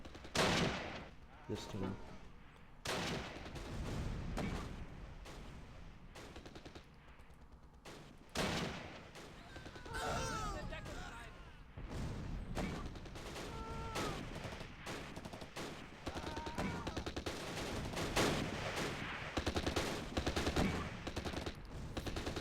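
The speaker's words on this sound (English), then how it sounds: "we're gonna try and silence that other MG42 there" MG42 machine gun fire in the World War II tactics game Close Combat, set at Arnhem, with repeated bursts and sharp shots scattered across a long stretch of battle noise and a brief spoken remark at the start.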